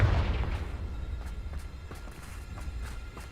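A Confringo fire spell detonates in the Hogwarts Legacy video game, a low boom at the start followed by a rumbling decay and scattered soft thuds and pops.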